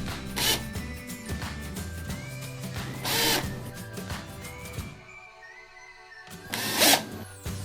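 A power drill drives bolts to fix the neck onto a body during a cheap custom DIY jazz bass guitar build, sounding in a few short whirring bursts with quiet pauses between, close and fairly loud.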